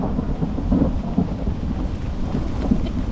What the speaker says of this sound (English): lots of lightning and claps of thunder going on as well